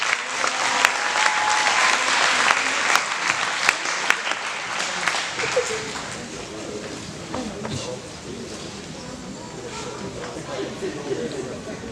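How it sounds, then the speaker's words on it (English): Audience applause at a youth recreation football and cheerleader banquet, a dense sustained clapping that tapers off toward the end, with some voices under it. "Go ahead and give these young men a round of applause"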